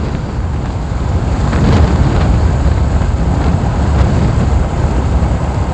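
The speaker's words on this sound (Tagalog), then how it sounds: "Ayan, lakas ng hangin talaga" Strong wind buffeting an outdoor microphone on a road trip in Masbate, a loud continuous low rumbling roar with gusty swells and no voices.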